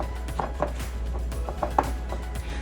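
Spelt chocolate chip cookie dry ingredients are stirred in a bowl with a spatula or wooden spoon, giving soft, irregular scraping and tapping knocks close by, with no one talking.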